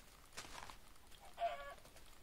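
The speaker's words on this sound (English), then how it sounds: "They're all super chickens." Super chickens in a video game clucking in two short bursts, a brief squawk and then a louder warbling cluck, moderately close over a low hum of game background noise.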